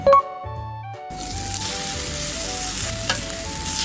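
After a short, quiet moment, vegetables flipped in a pan over low heat break into a loud, steady sizzle that carries on with little change.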